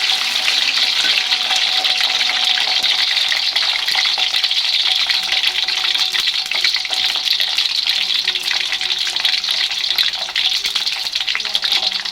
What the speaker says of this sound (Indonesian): saya mau goreng telur puyuhnya dulu